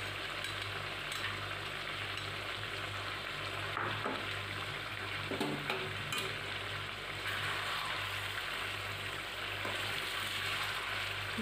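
Mutton gravy with a freshly added paste being stirred as it fries in a kadai, a steady close sizzle with faint scraping of the spoon running throughout, no voices.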